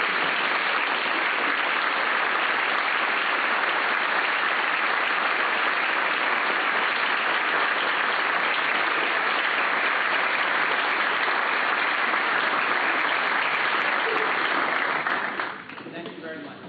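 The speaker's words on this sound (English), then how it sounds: "we should all stand up and clap for them" An audience at a Holocaust Day of Remembrance event applauds veterans with loud, dense, sustained clapping from a large crowd that fills the hall for about fifteen seconds before it tapers off.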